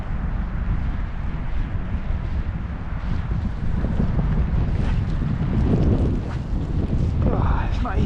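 Strong winter wind buffets the microphone during fly fishing at Farleton, a steady loud roar that never lets up and swells with stronger gusts toward the end.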